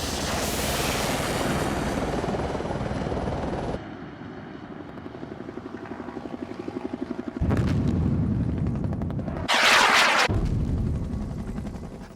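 An Apache Longbow combat helicopter thunders close by, its rotor beating in a fast, even pulse under a loud engine roar. The din shifts abruptly as heavy blasts and bursts of fire break in, with no voices.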